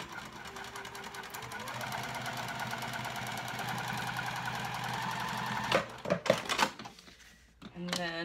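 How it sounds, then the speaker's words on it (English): Sewing machine top stitching along the edge of a cork dopp kit handle, a fast even mechanical whir for several seconds, then stopping with a few clicks and handling noises. "top stitch along the top edge of the handle"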